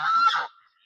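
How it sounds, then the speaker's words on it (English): A domestic goose at a small-scale livestock pen gives one loud, close, harsh honk lasting about half a second, then falls silent, with a faint short call at the very end. "that's Waldo, my goose. He's rather loud"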